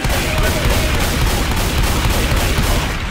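Dense, continuous video game gunfire, a loud unbroken roar of rapid shots and explosions filling the whole stretch with no pauses.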